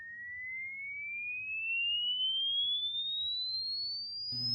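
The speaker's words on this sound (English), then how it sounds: "Now, sound. Tone A. Minimal volume." A pure electronic test tone, labelled tone A, played at minimal volume, rising slowly and steadily in pitch for about four seconds and cut off abruptly, alone over faint low hum.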